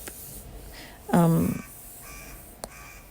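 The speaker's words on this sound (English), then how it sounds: "a crow is, crowing, crying" A crow caws loudly once outside, a harsh close call amid quiet background with a faint tap afterward.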